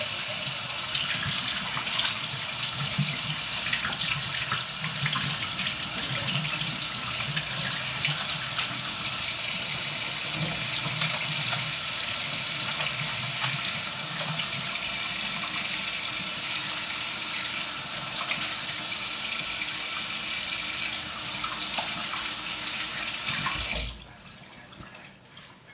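Warm tap water runs from a faucet into a sink for handwashing, a steady gushing hiss that stays loud for about 24 seconds before cutting off abruptly, with no voices.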